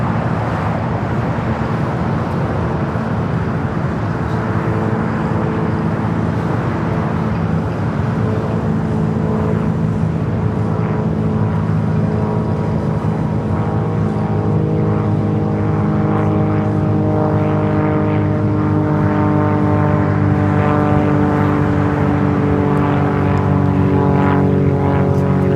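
Airliner from Newark taxiing across runway 25 right at LAX, a loud sustained engine drone with layered steady tones that strengthen and shift toward the end, no voices.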